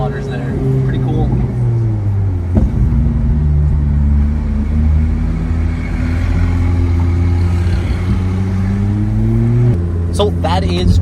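Ferrari engine driving the Monaco F1 circuit, a loud close cabin drone with changing engine pitch as the car accelerates and shifts, a brief gear-change dip, and a short revving burst near the end.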